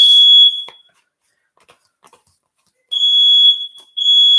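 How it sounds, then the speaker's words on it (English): A smoke alarm that needs fixing shrieks in piercing, high-pitched continuous beeps, sounding at the start, cutting out for a couple of seconds, then blaring again in two loud bursts near the microphone. "It is my smoke alarm"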